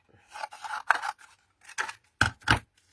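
Scissors snipping through blue card, a few distinct crisp cuts with pauses between, close and fairly loud in a quiet room.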